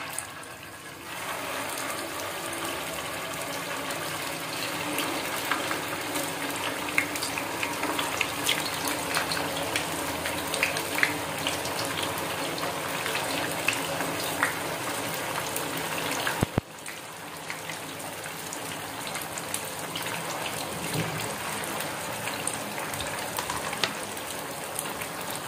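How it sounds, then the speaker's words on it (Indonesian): Jadah tetel rice cakes frying in hot boiling oil, a dense continuous sizzle and crackle held steady throughout with one brief dip partway through. "Setelah mendidih minyaknya, lalu kita goreng."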